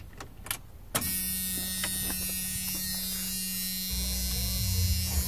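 AMC Jeep with the ignition key switched on: a few key jangles and a click, then a steady electric hum and buzz starts up and holds, with a lower motor whir joining near the end.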